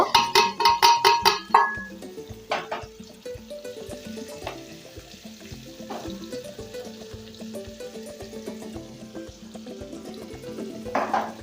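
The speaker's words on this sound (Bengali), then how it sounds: "করলাটা ভাজা হতে হতে" Bitter gourd fries in a pan with a steady, close sizzle that runs throughout. Quick rhythmic clattering comes near the start, and occasional louder crackles pop over the hiss.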